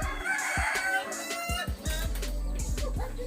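A small bantam rooster crows amid clucking hens in a busy, noisy outdoor coop at an orchard and eco park, with other fowl, including doves, calling nearby.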